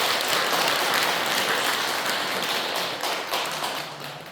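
Applause for a participant at a Korean Won Buddhist training session, a steady wash of many hands clapping that stays loud for several seconds and eases slightly toward the end.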